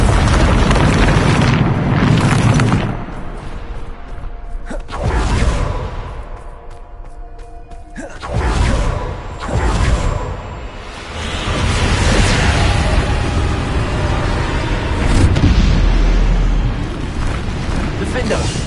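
Bombarda spell explosions in Hogwarts Legacy, repeated loud booming blasts with whooshing bursts spaced across a dense battle soundscape, close and forceful, while a voice calls out between the hits.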